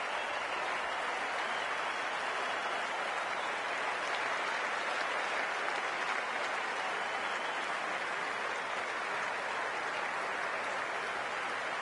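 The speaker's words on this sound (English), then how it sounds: "We're about to get underway and already the crowd is up and about." Stadium crowd noise in the Cricket 24 video game before a T20 match between India and South Africa, a steady dense roar of applause and cheering that holds evenly throughout with no clear voices.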